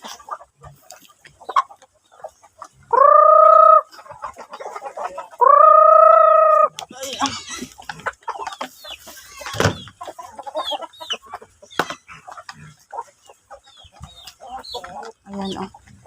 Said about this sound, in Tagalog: Mga dambuhalang mga manok, oh.